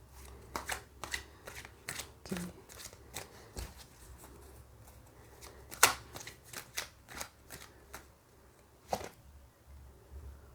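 Tarot cards being shuffled by hand, a steady series of crisp riffling snaps and slaps repeating roughly every half second, close and clear with no talking.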